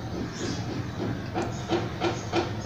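Potato french fries frying in oil, a close steady hiss of bubbling oil with a few rhythmic bursts of louder sizzling, no speech.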